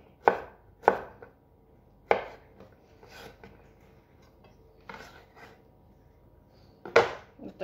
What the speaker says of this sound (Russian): И нарезаю морковь.